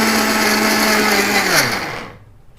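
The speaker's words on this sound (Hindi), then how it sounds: "बादाम को भी इसी प्रकार से आप ग्राइंड कर लें" A mixer grinder whirs loudly as it grinds almonds, a steady high-pitched motor drone that winds down and cuts off near the end, leaving quiet.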